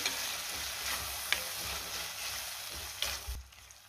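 Paneer gravy with milk cream being stirred in a pan over a low flame, a steady soft sizzle with a few scraping strokes of a spoon, close and fairly quiet, no voices.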